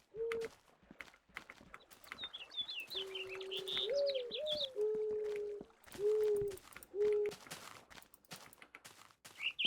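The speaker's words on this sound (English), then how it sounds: "Those white birds make the loudest noise known to man." White birds in a modded Minecraft Beta 1.7.3 world repeating hooting, owl-like calls in several bursts, with higher chirping trills mixed in, fairly close and loud over a quiet background.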